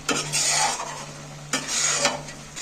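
Spinach mixture for palak paneer is sautéed and stirred in a pan: a soft sizzle under repeated scraping strokes of a spoon against the pan, two bursts spaced about 1.5 seconds apart, close and clear with no voices.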